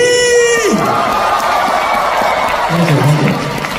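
An audience at Hong Kong Coliseum claps and cheers for a singer during a talk show, with a steady roar of applause and whoops as a sustained electronic tone fades and drops early on.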